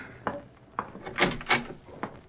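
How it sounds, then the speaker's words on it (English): A door opens in a radio drama sound effect, with a few soft wooden knocks and rattles, then a creaking scrape of the latch and hinge, quiet and close. "Open the door."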